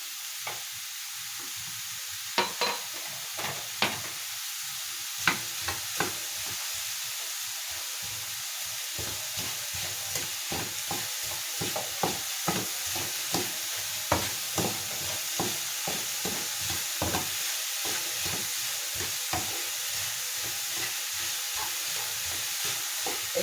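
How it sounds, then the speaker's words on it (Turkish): Apple pieces with sugar cook in a pan to a continuous hiss and sizzle, while repeated clicks and scrapes of stirring come in irregular bursts throughout. "Arkadaşlar elmalarımızı tavaya aldık. Böyle biraz çevirmiştiriyoruz. Çay şekerimizi ilave ediyoruz."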